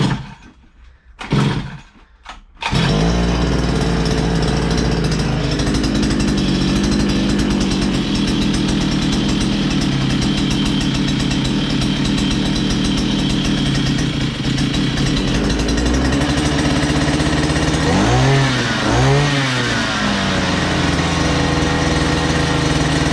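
A troublesome 2-stroke strimmer with a stiff, sticky throttle sputters through a couple of short bursts, then catches and runs loud and steady, a buzzing high-revving whine, with a few quick revs rising and falling near the end.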